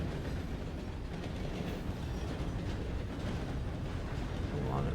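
A train running in the RedM game, with a continuous rolling rumble, faint rail clatter and a brief high squeal near the end, while a voice talks faintly over it.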